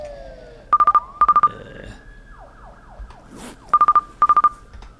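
A phone rings in the video game Drug Dealer Simulator with an electronic trill of four quick beeps, repeated twice, then again after a pause. A soft game ambience and a sweeping whoosh fill the gap between the bursts.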